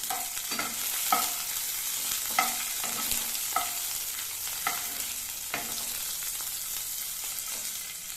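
Green chillies and a piece of ginger frying in a pan, a steady soft sizzle with a spatula scraping and stirring in regular strokes roughly every second, close and fairly quiet, no talking.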